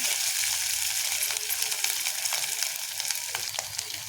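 Pieces of fat frying in a pan give a steady, close sizzle with crackling pops that runs the whole time, and no one speaks.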